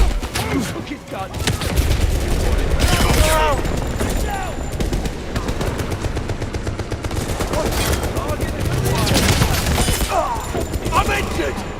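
Sustained gunfire in the 007 First Light video game, with automatic bursts and scattered shots layered into a loud, near barrage, while voices shout over the fighting throughout.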